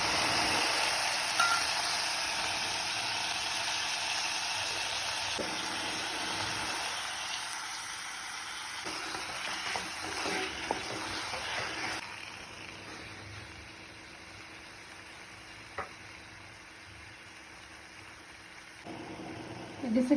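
Brinjal and onion sauté in sesame oil with a steady, soft hiss and sizzle, broken by occasional stirring scrapes, while a person talks faintly in the background.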